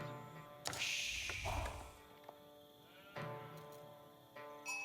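Sheep bleat in the Age of Empires game, a few distinct calls over a steady game soundscape, one long bleat near the start followed by shorter ones later.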